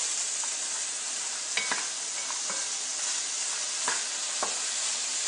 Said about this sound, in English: It's a very simple stir-fry recipe that just takes a few minutes to make.